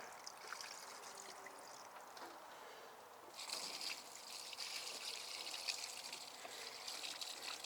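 Liquid tomato feed poured onto melon plants outdoors, a faint trickle that swells into a steadier splashing flow partway through.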